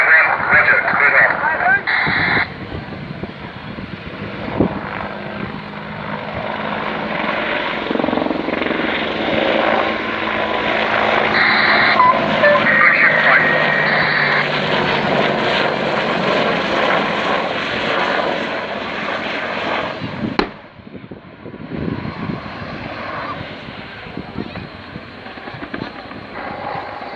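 Apache gunship helicopter in an attack simulation, a loud continuous rotor and engine drone that swells and shifts, with radio-style voices talking over it and a sudden drop near the end.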